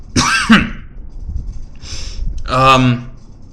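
A person coughs and clears their throat a few times at close range, short rough bursts separated by brief pauses.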